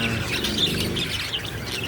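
Pet birds chirp in short, high, overlapping tweets over a steady background hum, close and continuous for a brief moment.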